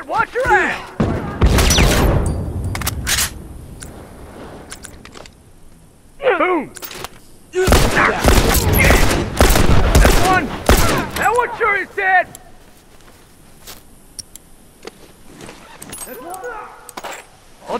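Gunfire in the video game The Last of Us: several sharp bursts of rapid shots in clusters, loud and close, separated by quieter gaps, with shouted voices in between.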